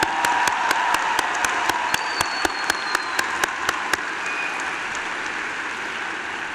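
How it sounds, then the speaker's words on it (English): A graduation audience applauds the class of 2024 at a high school commencement ceremony, a steady wash of clapping with a few distinct claps standing out near the start before the applause fades slightly. "Let's give a huge round of applause one more time for the class of 2024."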